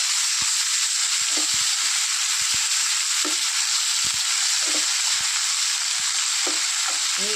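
Drumstick leaves sauté in a hot pan for a jackfruit seed curry, with a loud steady sizzle and occasional scraping knocks as they are stirred.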